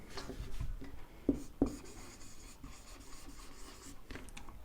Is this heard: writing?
yes